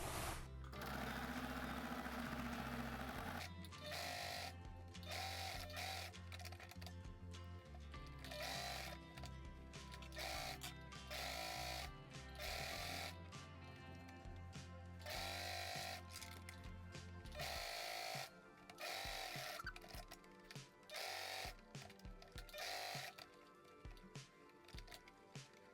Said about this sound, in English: I'm going to sew everything with the bias tape, leaving a little bit open so I can join it together.